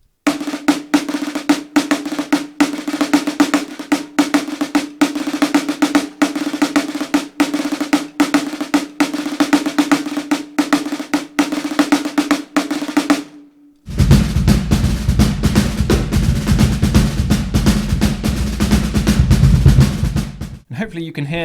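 A snare drum plays a rudimental march passage with a dense, rapid, evenly pulsed stream of strokes. Partway through, after a brief gap, the sound turns fuller and louder.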